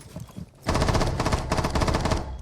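Automatic weapon fire in the tactical shooter Rainbow Six Siege during a collegiate esports match, a loud, rapid, continuous stream of shots that starts abruptly after a brief quieter lead-in and keeps going without a break.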